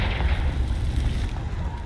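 A Confringo fire spell erupts in Hogwarts Legacy as a dense, rumbling blast of fiery noise, loud and continuous for about two seconds with no voices.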